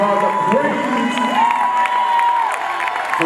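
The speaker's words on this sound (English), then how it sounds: "Somebody clap your hands and give God a praise" A church congregation at a worship service cheers and shouts praise, a loud, continuous crowd roar with whoops and rising voices and no break.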